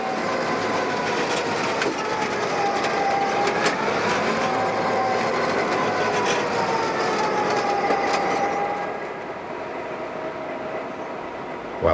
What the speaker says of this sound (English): Number 4 is two GP38s spliced by a GP7 slowly pull the 17-car train into the Sioux station